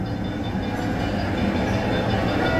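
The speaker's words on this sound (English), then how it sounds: "Ah, there's a train coming." A train rumbles past at the Pleasure Beach resort, a loud, continuous low roar and rattle that swells slightly as it nears, with no talking over it.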